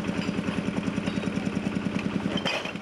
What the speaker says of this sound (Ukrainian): з самого ранку вже працює трактор